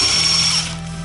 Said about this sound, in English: We're going to go ahead and take these Torx out.